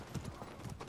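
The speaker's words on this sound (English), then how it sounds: "this horse might get him." Hooves clatter in quick, rhythmic clip-clop beats as a horse gallops in the Mordhau medieval combat video game, faint and close under game noise.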